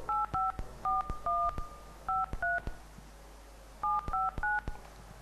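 A telephone number is dialed with DTMF keypad tones during an Italian live broadcast, three clusters of short, clean, evenly spaced beeps separated by pauses, clear over a faint background hum.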